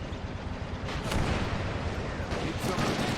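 Marines firing on Japanese troops during the 1944 Saipan beach landing in Men of War: Assault Squad 2, a dense rumble of overlapping gunfire and heavy booms, with sharp blasts near the middle and end.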